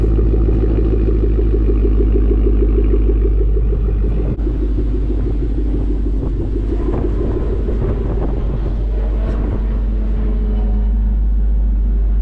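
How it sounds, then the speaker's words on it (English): Deep, steady V8 idle rumble from a warm 2011 Mustang GT with a Roush axle-back exhaust, a loping low throb, close and loud, with some wind buffeting the microphone. "This is not a cold start. And this is how the idle sounds."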